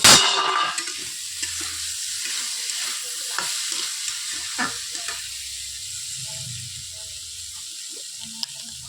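Curry frying in a pan after turmeric is added, stirred with a spoon: close, continuous sizzle and hiss broken by repeated scraping strokes, loudest at the start.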